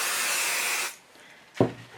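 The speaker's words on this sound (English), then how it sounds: "I'm going to give this a spray." Spray adhesive hisses onto quilt backing for a child's table runner in one steady burst of nearly a second, followed by a soft rub and a light thud.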